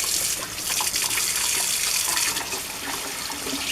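Tap water running steadily into a sink while a hand is rinsed under it, a close, continuous splashing rush with small fluctuations.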